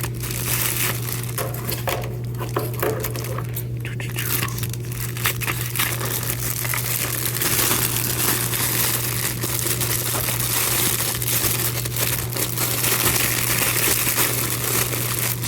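Plastic packaging from a haul of fishing lures crinkles and crunches steadily for the whole stretch, close and continuous, with a low steady hum underneath and no talking.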